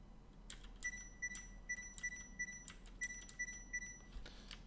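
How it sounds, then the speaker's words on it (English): A video game under development gives off a series of quiet, evenly spaced electronic beeps with a steady ticking rhythm over low background hum. "I hope you all enjoy the beeps"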